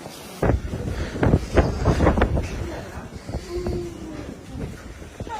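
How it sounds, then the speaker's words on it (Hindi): Strong wind rushing through Lipa Cave in Montenegro, a loud, gusty roar buffeting the microphone with irregular thumps, under background voices. "कितनी तेज हवा है यहाँ पर"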